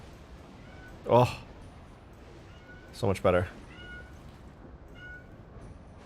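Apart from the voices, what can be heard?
cat screaming and meowing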